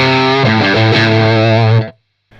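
An electric guitar through a Thorpy FX Veteran Silicon fuzz pedal into a Marshall amp plays a thick, saturated, sustained fuzzy chord with shifting notes that cuts off abruptly, loud and close.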